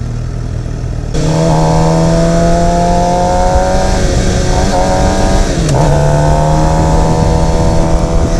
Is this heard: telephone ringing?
no